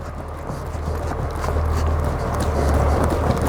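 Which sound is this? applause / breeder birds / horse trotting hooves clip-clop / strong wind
horse trotting hooves clip-clop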